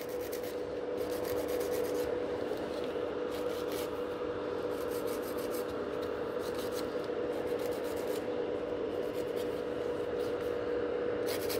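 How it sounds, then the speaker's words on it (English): A nail file rasps steadily back and forth across gel nails, shaping them into a coffin form: continuous close scratchy strokes in quick rhythm, alone and clearly audible throughout. "So I'm filing the nails into the V shape and now shortening them the growth."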